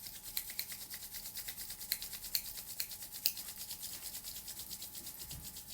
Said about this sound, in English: bring your palms together and begin rubbing, getting faster and faster